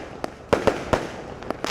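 Fireworks set off at an outdoor welcome ceremony in Lahore, a string of sharp, loud cracks and pops at irregular intervals over a low background murmur.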